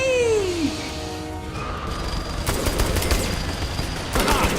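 Rapid bursts of gunfire in Saints Row: The Third during the Genkibowl VII event, loud and continuous with a falling whistle at the start and dense overlapping shots and impacts throughout.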